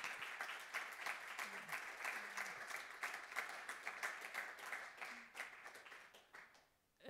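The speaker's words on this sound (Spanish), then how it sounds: "os pido un aplauso para los dos y os dejo con ellos" Audience applause for two guest speakers at a football and literature talk in Bilbao, steady dense clapping from a seated crowd that continues for several seconds and then fades out near the end.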